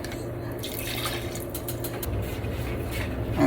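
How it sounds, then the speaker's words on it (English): Hot water pours steadily into a pot of homemade chicken soup and stock, a soft continuous liquid rush close by with no talking. "Add some hot water."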